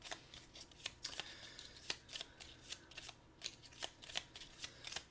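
Bystander cards for the Marvel Zombies board game are shuffled by hand, giving a quick string of crisp riffles and flicks in an even rhythm, close and fairly quiet, with no talking.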